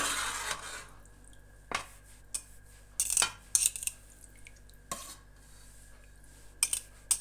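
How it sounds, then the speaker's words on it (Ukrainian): Cheese curds for homemade Gouda being stirred and broken up in a pot, giving a few separate clinks and scrapes of a utensil against the vessel, spread sparsely over quiet stretches with no talking. "За той час ми помішуємо і подрібнюємо наше сирне зерно, яке лишилося великими шматками"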